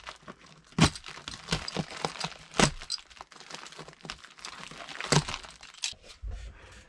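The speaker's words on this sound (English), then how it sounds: "And that's how you cut that stuff, just with a knife" Bathroom insulation being cut with a knife during a small bathroom remodel, giving close crackling, tearing and crinkling sounds with several sharper snaps spread irregularly through the clip, and no talking.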